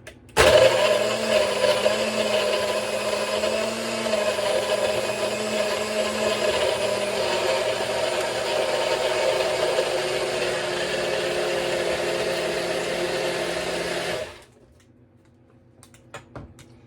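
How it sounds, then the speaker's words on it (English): A blender crushing ice runs loud and steady for about fourteen seconds, a dense whirring roar with grinding texture, then cuts off abruptly into near silence. "blend it until the ice is all crushed up and it's nice and frothy"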